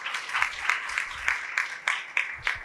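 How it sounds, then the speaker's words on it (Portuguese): A crowd applauding steadily, a dense patter of hand claps with a few sharper peaks, moderately loud and continuing throughout. "Por favor, uma salva de palmas aqui"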